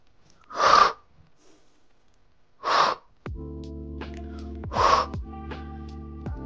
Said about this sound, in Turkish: Şimdi nefes alıyorum.